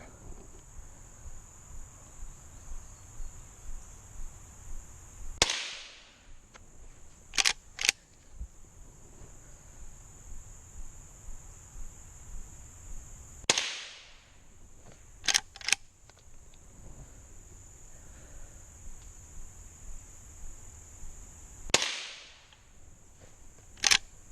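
A Henry classic rifle firing at a range while being sighted in: three loud single cracks spaced several seconds apart, each followed by faint clicks of working the action, over a steady insect drone.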